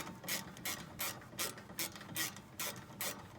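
A ratchet clicks in quick, regular bursts as it tightens bolts during a front brake pad replacement on a 2002 Hyundai Santa Fe, close and fairly quiet, with no talking.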